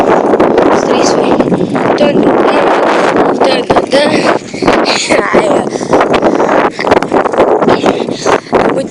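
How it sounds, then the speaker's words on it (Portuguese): A strong wind roars across the microphone of a cyclist riding a bike, a loud, continuous buffeting rush with gusty dips that fills the whole stretch. "É muito vento."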